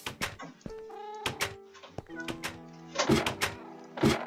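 Several cats stir around a room, giving short meow-like calls mixed with scattered thumps and knocks that come in uneven bursts at close range.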